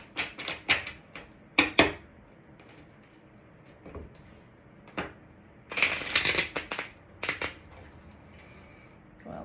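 Tarot cards are shuffled and handled up close in quick bursts of riffling and snapping, with brief pauses between flurries and a longer dense shuffle near the middle. No talk.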